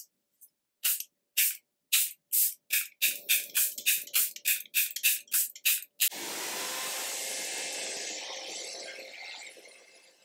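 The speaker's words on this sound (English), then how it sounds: "I'm using Airbrush Flawless Setting Spray by Charlotte Tilbury" Charlotte Tilbury Airbrush Flawless Setting Spray fires in a string of about sixteen short, crisp misting bursts that speed up as they go. A long, steady hiss follows and slowly fades, all close and with no talking.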